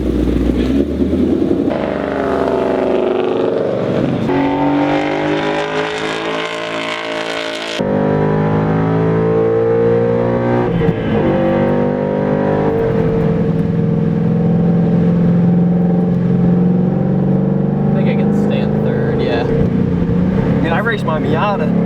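A Mazda Miata rally car's engine revs and rises loudly through gears at close range, its pitch climbing and falling repeatedly, while people talk over it throughout.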